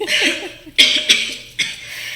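A few harsh, breathy coughs burst out in quick succession, loud and close, with raspy throat noise between them.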